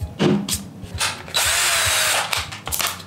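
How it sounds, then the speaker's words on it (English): A power drill bores into a bar of red soap in short bursts, whirring loudly up close with brief pauses and a longer sustained run in the middle. "I'm just gonna drill anywhere and see what happens"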